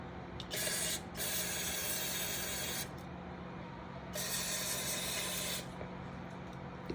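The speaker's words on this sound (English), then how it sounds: "Brake parts cleaner." Brake parts cleaner sprayed from an aerosol can while working on a Johnson 120 outboard prop shaft, two long close hissing bursts separated by a short pause, with no talking.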